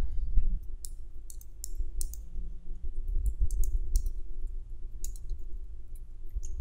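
Quick clicking keystrokes on a computer keyboard as HTML code is typed into a code editor, irregular bursts of taps close by over a low background hum, no talk.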